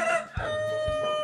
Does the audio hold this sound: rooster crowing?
yes